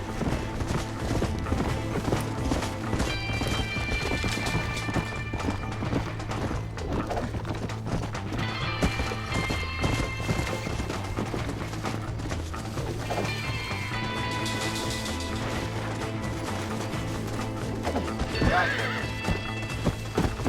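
A horse in the Western video game Red Dead Redemption, set in Mexico, trots and gallops with steady clip-clopping hooves and lets out a loud whinny near the end, layered over a continuous game soundtrack with no talk.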